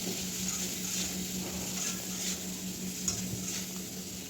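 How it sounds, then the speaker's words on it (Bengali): Potatoes frying in a pan at home, a steady soft sizzle running throughout with faint stirring clinks, no voices. "এদিকে আলুটা ভাজতে বসিয়েছি"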